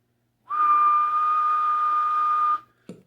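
A single steady whistled tone into a Cobra 29 LTD Classic CB radio microphone holds for about two seconds, close and clear with a faint radio-like quality, followed by a brief click.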